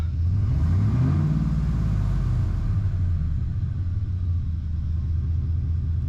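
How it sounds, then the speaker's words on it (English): A Ford F-150 with a freshly replaced 5.4-liter 3-valve V8 revs up loudly and close by, its pitch climbing and then sinking back into a steady, rumbling idle, with no voices. "We're going to rev it up."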